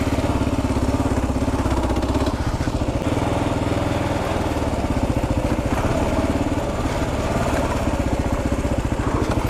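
A KLR 650 motorcycle engine thumps steadily and loudly close by while riding on a dirt track, a rough continuous rumble with clattering mechanical noise and no talking.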